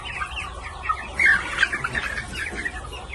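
Phu Phan black chickens about one month old chirp and cluck in a flock, a busy overlapping chatter of peeps and squawks with a few louder calls, fairly close.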